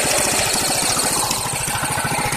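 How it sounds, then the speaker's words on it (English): A Yerf-Dog go kart engine with a bullet flywheel and 26mm carburetor runs loud and close, a fast steady pulsing chug throughout with no talking. "we're about to test out the yerfdog, the bullet flywheel, 26mm carburetor, and everything else"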